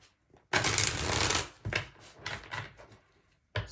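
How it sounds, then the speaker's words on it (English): A deck of tarot cards is shuffled close up in a quiet room: one long riffling burst, then several shorter soft bursts and a final quick flurry. "Let me shuffle first."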